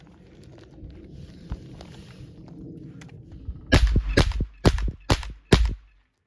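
Five loud suppressed shots from a KP9 pistol come in quick succession near the end, with crisp sharp reports after several seconds of quiet handling and movement noise during magazine change practice.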